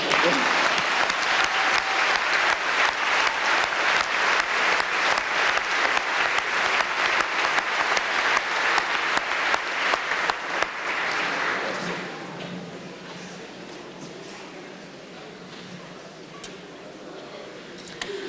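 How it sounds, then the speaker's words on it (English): An audience at a police academy graduation ceremony breaks into loud, sustained applause that runs for about eleven seconds, then fades into quieter room murmur. "Round of applause."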